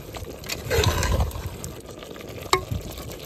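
Jackfruit and mutton sizzling in hot oil for biryani while being stirred, a loud close crackle with scraping spoon strokes and a sharp clink near the end, no voices.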